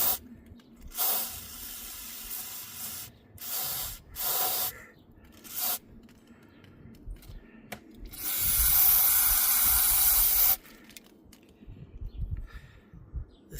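Bursts of hissing spray from an aerosol can of mass air flow sensor cleaner on a 2018 L5P Duramax, several short squirts followed by one longer blast of about two seconds, close and loud.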